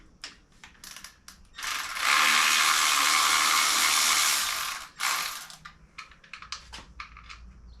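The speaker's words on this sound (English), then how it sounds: "let me just use a socket." Socket ratchet wrench turned by hand on the engine of a Chevelle restomod during engine and transmission removal: a loud, sustained rapid clicking burst of about three seconds, framed by shorter scattered ratchet clicks before and after.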